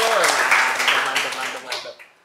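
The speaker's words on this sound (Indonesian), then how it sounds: "tepuk tangan dulu dong." A group claps for SMA N 2 Bantul, a senior high school, during an informal talk show. A voice talks over the loud applause, which tapers off and fades out near the end.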